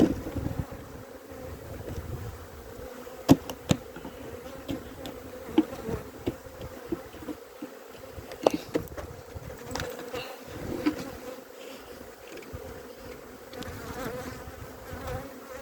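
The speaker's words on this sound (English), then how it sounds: "Shake the bees in." A dense buzzing of a honeybee swarm hums continuously, with occasional thumps and knocks close by as the bees are shaken into a hive box.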